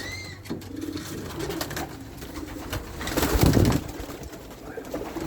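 Pigeons coo softly and repeatedly close by at a loft, with a burst of rustling or flapping in the middle and a steady low background hum.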